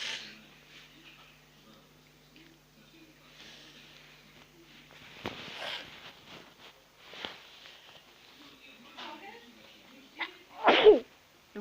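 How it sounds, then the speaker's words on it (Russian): A person sneezes once, loudly and close, preceded by quieter sniffing, breathing and shuffling sounds with faint background noise. "Чихнул наконец-то."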